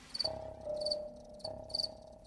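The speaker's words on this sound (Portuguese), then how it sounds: "É o grilo doméstico, que tem esse nome porque vive geralmente dentro de casa." Shrill, high-pitched chirping of a male house cricket in three distinct bursts, with a steady lower tone underneath, close and fairly clear.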